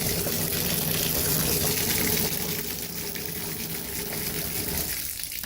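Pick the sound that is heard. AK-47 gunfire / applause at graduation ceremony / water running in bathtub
water running in bathtub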